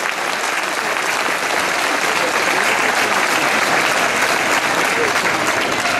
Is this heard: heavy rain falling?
no